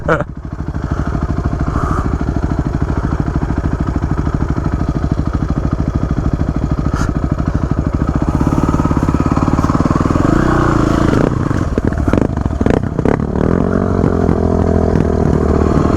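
A Suzuki DR350 dual sport motorcycle mud bogging off a forest trail, its engine throbbing steadily at first, then revving harder with clattering bursts and spiky surges as it churns through the mud, loud and close throughout.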